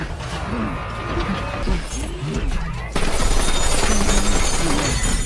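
A film shootout against a two-legged robot with guns mounted on its body: dense bursts of gunfire and crashing impacts build to a loud, continuous barrage of shots and shattering debris.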